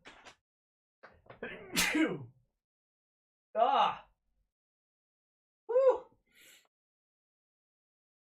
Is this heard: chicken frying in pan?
no